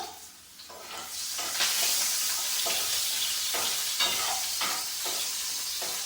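Onions fry in hot tempering oil for a Telugu yogurt chutney, giving a steady loud sizzle close by with occasional scraping as they are stirred.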